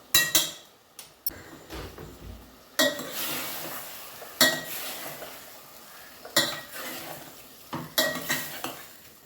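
Mutton with turmeric is stirred and fried in a pan, a spoon clanking and scraping against the metal in irregular bursts over a soft sizzle, close and fairly loud.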